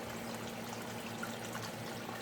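Water flows steadily through grassy grounds beside a creek, a continuous close trickling pour with no break and no voices.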